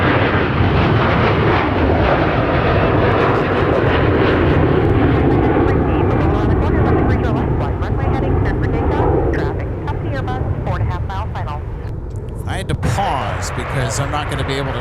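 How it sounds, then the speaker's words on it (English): A Delta Airbus A321 takes off from Minneapolis–St. Paul airport, a loud sustained jet engine roar that gradually fades toward the end, with people talking over it. "A321 getting airborne for Delta."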